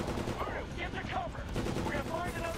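Gunfire in the video game Medal of Honor, a dense continuous stream of rapid automatic shots and a mix of distant fire, loud and steady throughout.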